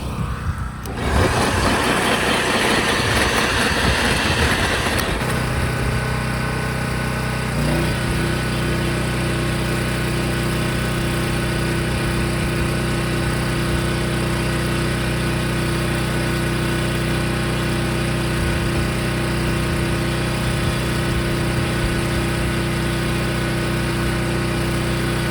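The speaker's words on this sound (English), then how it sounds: "Had not a single problem with this cultivator. Very powerful and pretty strong" A 12-inch, 10.5-amp corded electric garden tiller cultivator running, a loud continuous motor whine with a steady droning hum that shifts in pitch early on as the tines dig into soil, then holds evenly throughout.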